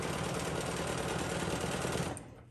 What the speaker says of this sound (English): Stitching in the ditch here, and the straight edge ruler helps me to do that.